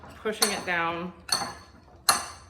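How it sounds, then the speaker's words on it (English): A metal spoon pressing and clinking against basil leaves inside a glass kombucha jar, with three sharp clinks spread across the moment and a voice talking between them. "I'm actually gonna push into this basil a little bit now with a spoon before I add the pear juice"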